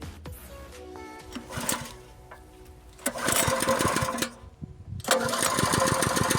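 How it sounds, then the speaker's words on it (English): A small petrol engine on an HTP agricultural sprayer pump, model KK-PSP, sputters and catches, then runs in a loud buzzing rattle close by, with a brief dip before revving up again. "Now we start the engine."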